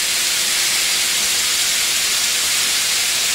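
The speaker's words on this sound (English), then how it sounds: "we've progressed to the olive oil, onion and garlic process" Onion and garlic sizzle in olive oil for a fresh tomato sauce, giving a steady, even hiss with no break and no talking.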